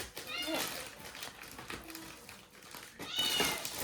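A cat meows at a village fair, with two or three short meows rising above constant chatter and children's voices nearby.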